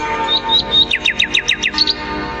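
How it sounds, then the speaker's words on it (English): Nightingale song: a bright, rapid series of high chirps and trills, about a dozen quick repeated notes in a steady rhythm, loud and close, with no voices. "there sat his old friend, the real Nightingale. Suddenly the emperor's head was filled with its delicate silvery notes"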